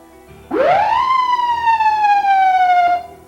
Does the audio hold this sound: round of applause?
no